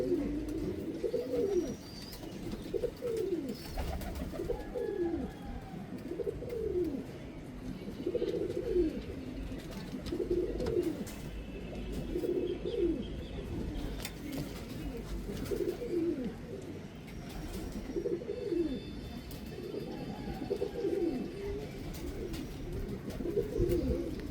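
UK second-generation pigeons coo steadily, a repeated rhythmic run of low throaty calls rising and falling every second or so, close and continuous with a few faint chirps behind.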